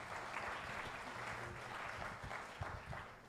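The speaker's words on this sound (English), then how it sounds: "Can we give them one other round of applause?" An audience at an African social entrepreneurship conference claps for a panel, soft and somewhat distant, a steady patter of applause with little else heard.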